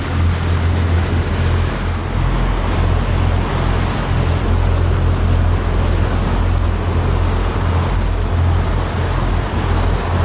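A fishing boat motors out of a bay onto the sea off Jesolo, Italy, its engine a steady, loud low drone mixed with constant rushing water and wind noise.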